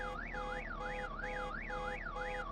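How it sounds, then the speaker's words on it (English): A car alarm wails in the video game VEIN, a steady rising-and-falling electronic siren cycling about every half second, distant and moderately faint, with no talking. "What set off that car alarm?"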